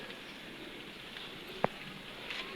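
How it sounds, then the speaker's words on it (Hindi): Rain falls steadily outdoors in a soft, faint hiss, with one brief sharp drip or knock partway through and no talk. "अभी भी ये बारिश हो रही है।"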